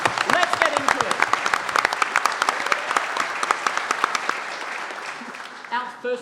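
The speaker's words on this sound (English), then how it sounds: "big round of applause for the team on my right" An audience at a science comedy show bursts into loud, close applause with dense clapping and some cheering, continuing for several seconds as voices rise near the end.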